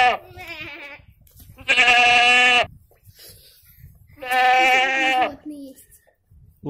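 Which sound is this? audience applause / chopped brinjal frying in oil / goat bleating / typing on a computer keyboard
goat bleating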